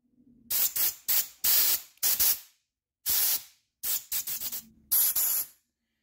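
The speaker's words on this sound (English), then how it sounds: "I'm going to see if I can give this a blowout with air compressor, airline" Short bursts of compressed air from an air compressor airline blast into a blocked Mercedes windscreen washer jet, about ten sharp hissing puffs of varying length, close and loud, separated by brief pauses.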